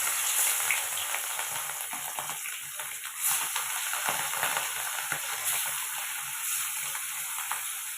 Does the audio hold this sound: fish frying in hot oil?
yes